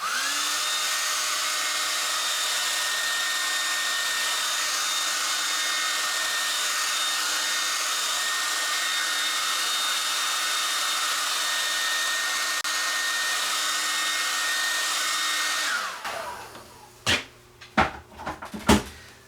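A hair dryer drying a watercolor painting in a studio runs as a loud, steady whooshing drone for about sixteen seconds, then switches off and winds down, followed by a few knocks and clatters.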